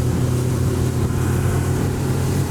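ALUMA Storm 477 aluminium motorboat with its outboard engine working hard as the hull climbs onto plane under heavy trim, a steady loud low drone with water rush throughout.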